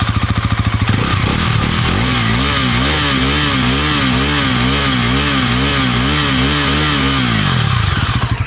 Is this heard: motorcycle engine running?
yes